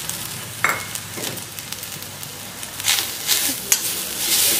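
Grated coconut and onion roasting in a pan for a Malvani chicken curry, producing a loud, continuous sizzle with bursts of crackling as the mixture is stirred.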